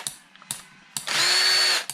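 Power drill boring a hole through thick ostrich eggshell, a few sharp taps and clicks followed by a short, loud, high-pitched whirring drill burst lasting under a second, close up.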